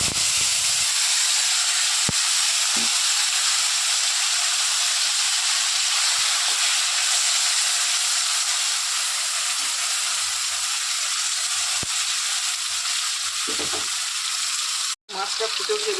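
Whole spice-coated fish frying in mustard oil, giving a loud, steady, close sizzle and hiss that runs unbroken with only a momentary dropout near the end.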